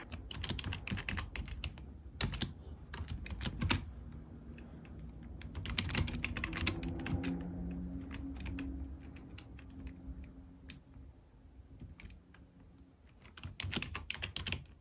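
Typing on a computer keyboard while a short story is being written, with dense bursts of rapid key clicks broken by short pauses, close and steady, and no voices.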